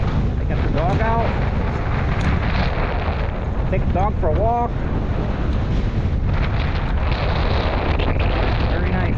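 Strong wind buffeting the microphone along the South Portland Greenbelt bike trail in Maine, a constant loud roar with gusts, while a person speaks briefly over it.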